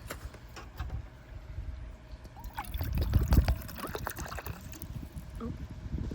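Water poured into a cooking pot at a windy roadside campsite, a steady trickling pour close by over gusty wind noise, with no talking.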